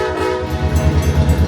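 A Lehigh Gorge Scenic Railway train starts to move, loud and close, with a rhythmic low rumble of wheels under a steady tonal horn-like drone.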